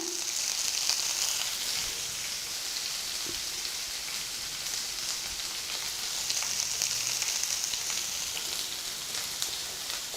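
Onions and broken dried red chillies frying in a pan for aval upma, a continuous dense crackling sizzle like rain on a surface, close and steady with faint stirring.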